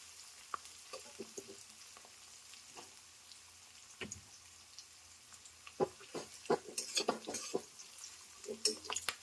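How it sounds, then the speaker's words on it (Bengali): Onions frying on medium flame in a pan for spicy crab curry, a quiet steady sizzle broken by scraping stirs and clinks of a utensil that grow busier toward the end. "পেঁয়াজটা মোটামুটি একটু ভাজা ভাজা হোক"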